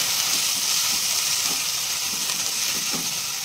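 Chili powder, cumin powder and salt frying in a pan for banana kofta curry, a steady close sizzle with soft scraping stirs over it.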